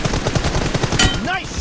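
Rapid automatic M416 rifle fire in PUBG Mobile, a quick close burst of evenly spaced loud shots followed by a bright metallic clink and a short rising whine.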